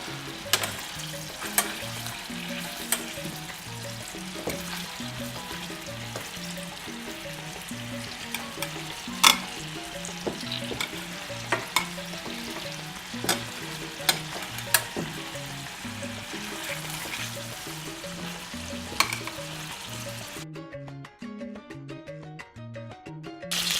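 Dutch meatballs sear in a pan with a steady, close sizzle and light stirring clicks, backed by soft music; the frying drops away near the end, leaving the music.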